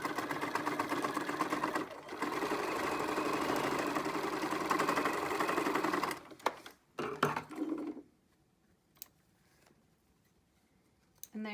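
A sewing machine stitches down the folded edge of a fabric face mask with a steady, fast mechanical whir for about six seconds. Short bursts of stitching follow, then near silence with faint handling sounds.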